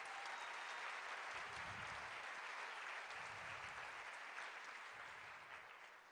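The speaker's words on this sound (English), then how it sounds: "Applause for Sara Al-Saka." Sustained applause from an audience at a live event honouring a newly qualified surgeon, a dense continuous wash of clapping that holds steady for several seconds before easing slightly toward the end.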